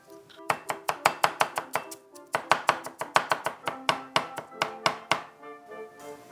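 Carrots are chopped with a knife on a cutting board at home, making rapid, close, evenly spaced knocks in two quick runs with a short pause between them.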